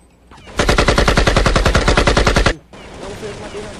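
Automatic gunfire in Counter-Strike 1.6, a loud sustained burst of about twenty rapid evenly spaced shots lasting two seconds, then quieter game ambience.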